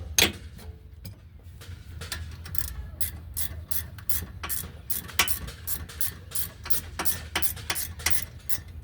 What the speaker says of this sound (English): just use a ratchet wrench to finish getting this out